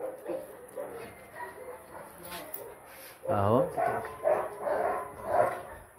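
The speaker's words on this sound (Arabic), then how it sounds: "زي ما انتوا شايفين الكلب بيحب اللعب قوي" A six-month-old dog at a dog farm in Cairo gives a burst of barks and yips amid playful commotion, close by, with someone talking throughout.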